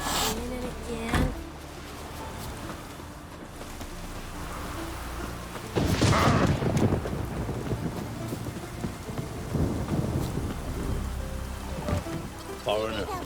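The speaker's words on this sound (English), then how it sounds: "Raining again." Rain pours steadily in The Witcher 3 video game, with rumbling thunder rolling in midway and a few sharper cracks, heard up close and continuous, with faint voices occasionally underneath.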